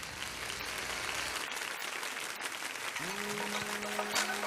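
A talk show studio audience claps and cheers in a steady burst of applause, with a voice rising briefly over the crowd near the end.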